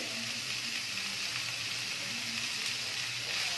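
Boiled radish and radish leaves frying in a pan of crackling cumin over low heat, giving a steady, even sizzle that holds close and continuous with no talking.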